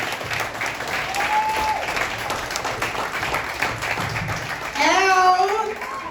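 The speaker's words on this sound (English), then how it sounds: "Come on, keep it clapping. Keep clapping." Comedy club audience at a Broadway stand-up show applauding steadily throughout, with a brief whistle-like tone early and a louder burst of clapping and cheering near the end.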